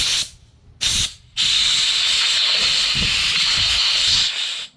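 Compressed air blasts through the vacuum manifold of a 1964 Lincoln Continental Convertible: two short hissing bursts, then a long steady loud rush of air lasting several seconds, close up.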